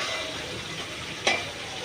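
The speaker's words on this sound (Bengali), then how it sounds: "মশলাটা দিয়ে ভালো করে কষিয়ে নিচ্ছি।" Spices sauté with fried onions in oil in a close, steady sizzle, with one brief louder scrape of stirring partway through.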